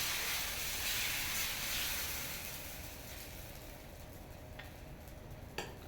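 Dosa batter cooking on a hot pan gives a broad steamy hiss that is loudest at first and slowly fades, ending with a couple of faint ticks and a small clack, with no talk.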